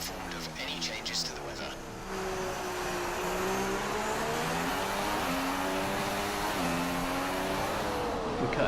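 An F1 car engine in F1 2016 at the Bahrain circuit screams at max revs, a steady high-pitched whine with small pitch shifts, running continuously while someone talks over it.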